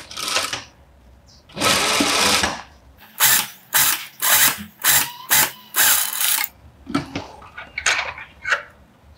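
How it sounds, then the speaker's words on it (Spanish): A sewing machine stitches a seam on a fabric glasses case, running in a long burst and then in a series of short, rhythmic mechanical bursts with brief pauses between them, close and clear. "ahora vamos a pasar una costura acá a un centímetro de"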